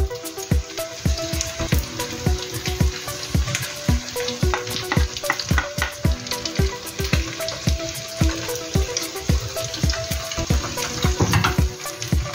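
An egg fries on top of a green onion pancake in a hot pan, a steady close crackling sizzle with sharp pops and spatters throughout.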